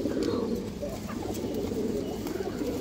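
A female green-necked pigeon with a zebra-patterned look cooing up close, repeated low throaty coos in a steady rolling rhythm over soft background noise.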